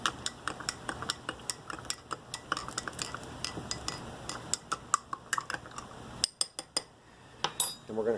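A spoon stirs yeast into a homemade wine mixture in a container, giving a series of sharp clinks and scrapes against the sides in an uneven rhythm, close and fairly quiet.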